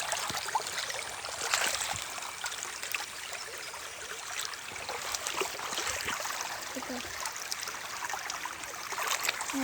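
A clear, clean stream flows with a continuous bright hiss of running water and small trickles and splashes throughout, steady and fairly close, with no talking.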